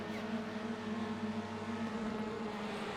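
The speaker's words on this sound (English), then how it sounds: "They're revving up." Race cars at Oran Park lined up on the grid for an ATC15 round, engines droning and revving together in a steady, distant roar before the start.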